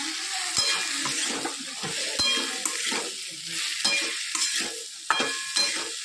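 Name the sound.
stirring fried potatoes and okra in a kadai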